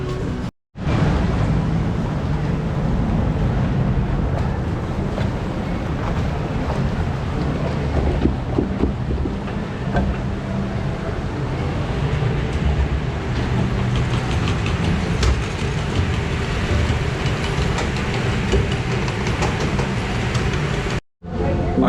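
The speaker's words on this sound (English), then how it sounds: "the log ride here at Michigan Adventure, Loggers Run." The Loggers Run log flume ride at Michigan's Adventure gives a loud continuous rush of churning water and machinery, steady and close, broken by two brief dropouts.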